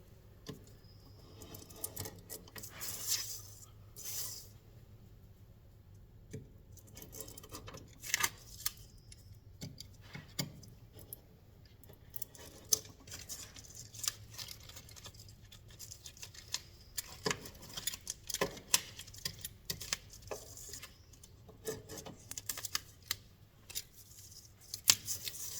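Scissors trimming excess material around a repaired bicycle frame during powder-coating prep, a series of quiet, irregular close snips and clicks spread across a faint background hum, with no talk.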